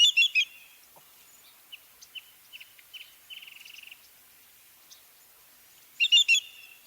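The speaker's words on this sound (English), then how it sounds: "greater yellowlegs tend to give 2-2-2 calls, and they give these calls in a sequence of 3 or more." A greater yellowlegs gives clear, ringing whistled calls in quick sets of three, loud at the start and again near the end. Faint, scattered shorter chirps fill the quiet stretch between them, and the recording is outdoors with no voices.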